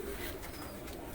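Prized UAE pigeons give a soft, low coo close by, a brief murmuring call that sits faintly above a quiet background.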